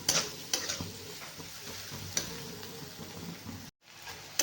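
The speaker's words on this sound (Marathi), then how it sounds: "हे बघा कांदा मिरची चांगलं तळलेलं आहे" Onion and green chilli fry in a pan for garlic okra, giving a steady close sizzle broken by sharp spatula clicks and scrapes, with a brief dropout near the end.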